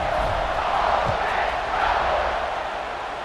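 Stadium crowd roaring steadily during a kickoff in a college football video game, Marshall against Ole Miss, a dense, continuous wash of cheering noise that holds at a high level throughout without letting up.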